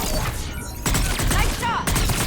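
Gunfire in the Mass Effect 3 video game, a quick burst of sharp shots followed by further cracks and electronic whirs, loud and close, with a voice briefly heard amid the action.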